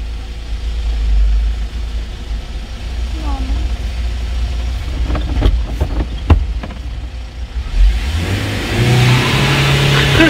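A car engine revs under a pressed accelerator during a manual-transmission driving test, a steady loud drone with a rising roar near the end, some clicks and muffled voices in the cabin.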